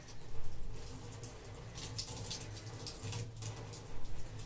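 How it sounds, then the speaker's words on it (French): Water running and splashing as coconut milk is wrung out of hair during a homemade coconut hair mask treatment, steady close trickling with louder bursts of dripping and squeezing. "je vais essorer pour enlever le maximum de coco"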